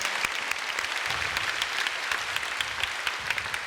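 A church congregation at a healing service applauds, dense sustained clapping from a large crowd filling the room steadily for several seconds.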